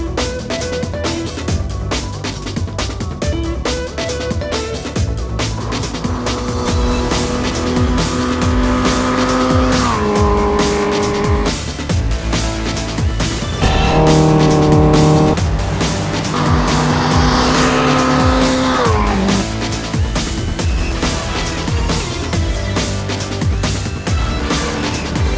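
High-revving Honda Fireblade CBR1000RR-R sport motorcycle engines scream continuously, with pitch rising and falling as they accelerate and shift gears around a track, loud and close.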